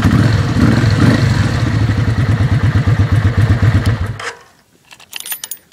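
Kawasaki VN750 motorcycle engine idling with a steady rhythmic pulsing thrum, loud and close, cutting off abruptly after about four seconds, followed by faint clicks and handling noises.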